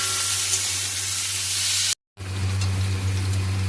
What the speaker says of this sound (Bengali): করলাগুলো দেওয়া হয়ে গেছে, এবার ভালো করে নাড়াচাড়া করে ভেজে নিতে হবে।